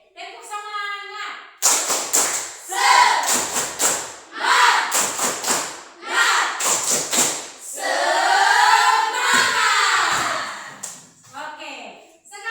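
A group performs rhythmic spirit clapping (tepuk semangat) in a classroom, with patterned bursts of claps alternating with chanting voices, loud and close.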